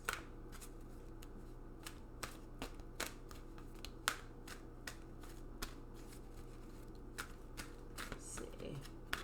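Energy Oracle cards being shuffled by hand, a quiet series of crisp, irregular riffling clicks and flicks repeating throughout at close range, against a low background hum.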